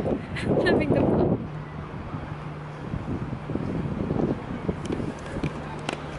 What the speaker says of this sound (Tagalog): Ang lakas na. Ang hangin pa naman.